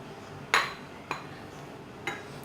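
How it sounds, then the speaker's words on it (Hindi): A spoon or whisk clinks against a mixing bowl as a flour and baking powder mixture is folded into tea cake batter: three sharp, separate clinks, the first loudest, over a quiet kitchen background with no talking. "अब मैं ये मैदे और बेकिंग पाउडर वाला मिक्सचर इसमें मिक्स करूँगी।"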